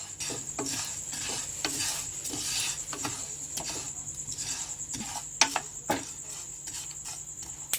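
Urad dal, broken cashews and almonds dry-roast together in a pan, giving light rattling scrapes and taps as they are stirred. A faint high steady hiss sits underneath, and no one speaks.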